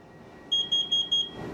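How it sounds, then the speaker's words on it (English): A carbon monoxide alarm sounds its four-beep temporal pattern: four loud, shrill, evenly spaced electronic beeps in quick succession, close and clear over a quiet room. "These 4 beeps mean it's time to get outside immediately."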